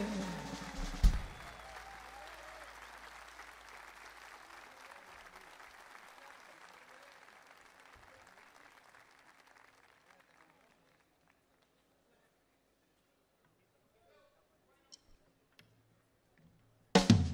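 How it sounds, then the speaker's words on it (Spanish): Audience applause for dancers at a live show, a dense clapping burst that swells at first and then gradually fades over about ten seconds into near silence, with a few faint scattered noises afterward. "Fuerte el aplauso para mis bailarines."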